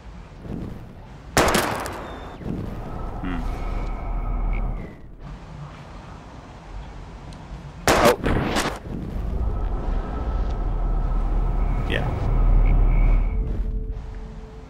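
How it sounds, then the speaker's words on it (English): Gunshots in Life Is Strange as a pistol fires at bottles in a junkyard, two loud sharp shots several seconds apart over steady background ambience and rumble. "We're gonna shoot all these bottles without wasting a single bullet."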